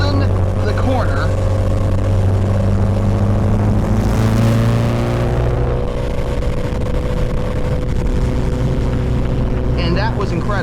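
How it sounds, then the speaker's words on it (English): A car's engine drones loudly and steadily as it holds a corner at around 50 mph, its tone shifting slightly mid-corner, with a voice talking over the cabin noise. "Just went into this corner going 65 miles an hour. We're going about 46, maybe 50, and it's just holding the corner."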